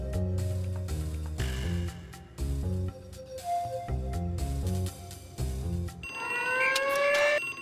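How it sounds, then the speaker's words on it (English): Fire alarm going off in the video game Harvester, a loud pulsing electronic ringing in rapid repeated bursts that gives way to a shrill warbling siren-like tone. "Fire alarms. I don't know why I haven't learned yet."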